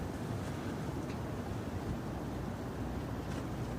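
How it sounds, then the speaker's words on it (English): Strong storm wind buffets outdoors in November, a continuous low rushing roar with microphone buffeting and faint gusting swells throughout, no voices. "yeah, this wind is crazy"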